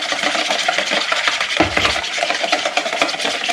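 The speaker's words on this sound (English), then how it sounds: "I'm just going to stir this up really," Chicken marinade being stirred for grilled fried chicken, a continuous scraping, swishing rub of a utensil in a bowl with a brief heavier knock midway.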